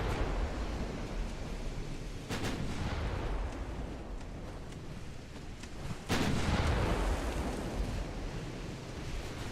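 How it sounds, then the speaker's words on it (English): Destroyer secondary guns boom in a naval battle in the Ultimate Admiral Dreadnoughts video game, with two heavy shots over a dense, continuous roar of gunfire and sea noise. "Let's put the secondaries on the destroyer."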